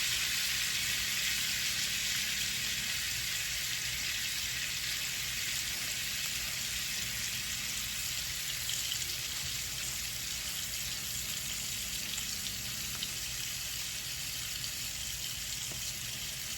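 A tomahawk ribeye steak fries in vegetable oil, giving a steady, close, hissing sizzle that holds evenly without a break and with no talking.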